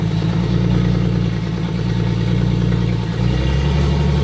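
A 12-valve VR6 car engine revs hard and steadily in first gear on a snowy surface as the wheels spin, a loud, continuous low drone with a slight dip in pitch near the end and no talking.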